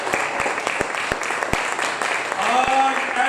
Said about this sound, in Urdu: تالیاں بجا دو۔